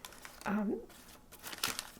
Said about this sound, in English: This is just a white coffee filter